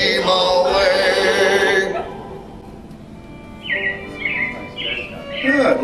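Recorded robins chirping as a sound effect in the Carousel of Progress show at the Magic Kingdom, short bright tweets rising after music and talk fade, with speech heard earlier in the scene.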